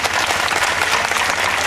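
Dense, loud audience applause, a continuous wash of many hands clapping close by without a break.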